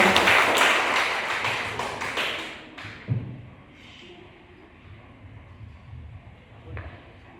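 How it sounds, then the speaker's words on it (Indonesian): Audience applause at a wedding blessing ceremony, a burst of clapping that fades and gives way to quieter room sounds and a few thuds. "Ya, kita beri tepuk tangan."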